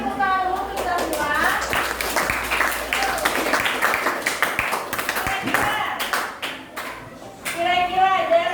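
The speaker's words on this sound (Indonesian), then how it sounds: "Beri tepuk tangan dulu untuk kita semua." Students in a classroom clap together after group presentations, a steady burst of applause with children's voices and chatter mixed in, swelling again near the end.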